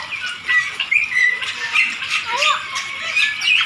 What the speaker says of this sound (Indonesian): Burung calaknya pada di situ tuh.